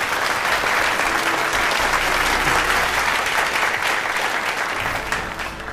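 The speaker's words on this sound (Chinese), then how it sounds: "掌声欢迎" Dense applause from a seated audience at an award ceremony: steady, loud clapping from many hands that holds evenly and then tapers slightly at the end.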